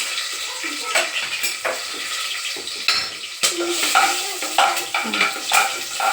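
Fennel seeds and green chillies crackle and sizzle in a pan for chicken biryani, with repeated metal spoon scrapes and clinks against the pan close by.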